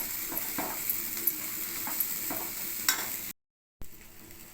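A spice mixture being stirred into pan-fried pesalu pallilu (green gram and peanuts), quiet sizzling with soft scraping stirs and a few light clinks, broken by a brief dropout near the end.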